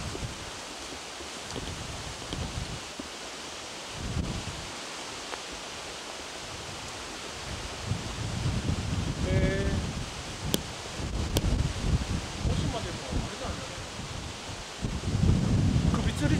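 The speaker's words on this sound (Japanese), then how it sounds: "こんなに風吹いてて暖かいんですからね" Wind gusts across the open ground of Oshima island in a steady broadband rush that swells louder in the second half, with leaves rustling and faint voices now and then.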